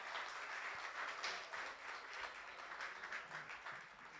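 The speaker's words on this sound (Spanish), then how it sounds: "Aplaudamos a la Escuela de Tripulantes y Portuaria de Valparaíso." Soft, fairly distant applause at a Valparaíso municipal council session honoring the port and crew school, a thin scattered patter of hands that rises and dips over a few seconds.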